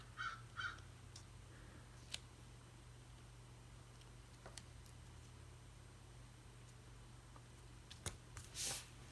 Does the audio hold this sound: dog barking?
no